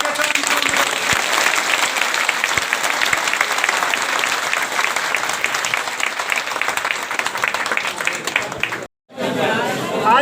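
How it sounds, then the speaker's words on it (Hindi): Sustained applause from a crowd at a railway goods-shed workers' union meeting in Patna, welcoming a national official; steady dense clapping fills the room with some chatter, breaking off briefly near the end. "राष्ट्रीय प्रभारी मुरंजन कुमार को तालियों से स्वागत करने का"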